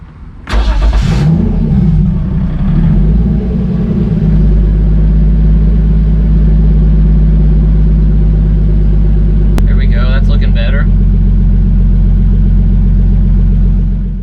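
A turbocharged BMW E30 engine cranks and fires up loudly on its first start, then holds a heavy, droning idle close by, with a short burst of talk partway through.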